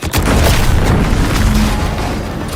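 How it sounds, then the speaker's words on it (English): A loud explosion in the video game The Outer Worlds 2 opens with a sharp blast and then rolls on as a heavy, rumbling boom that fills the whole stretch and fades only slightly. "What's that? An explosion?"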